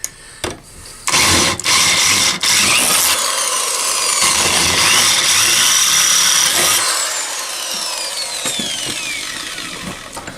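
A Harbor Freight power drill reams out holes in a motorcycle side-cover stay bracket, loud and close, with short bursts at first and then a long sustained whining run that fades away.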